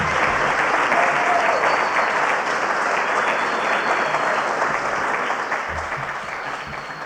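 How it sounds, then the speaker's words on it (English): Sustained audience applause fills a room at a Friday night AA speaker meeting in Westchester, California, a dense steady roar of many hands that stays loud throughout and eases slightly toward the end, with no talk over it. "You can have 2 extra minutes for applause."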